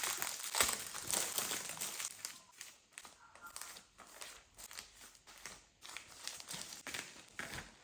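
Small plastic party-favour bags crinkling as M&M's are packed into them for a circus-themed fifth birthday, a busy run of close rustles and crackles that keeps going throughout with no talking.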